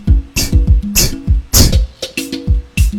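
Hi-hat pattern in a Ghanaian piano highlife beat, crisp bright ticks over punchy kick drum and short synth tones, looping rhythmically and close, with no voices.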